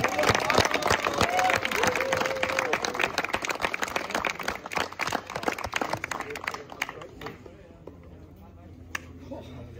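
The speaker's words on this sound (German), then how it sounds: "Ein riesen Applaus für Low Budget Racing" Crowd at the final Turbo-Kart race of 2025 in Wohlen clapping for the Low Budget Racing kart team, a dense round of applause that thins into scattered claps while an announcer talks over it.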